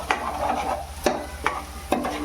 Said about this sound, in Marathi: धना पावडर आणि आपल्याला मिक्स करून घ्यायचं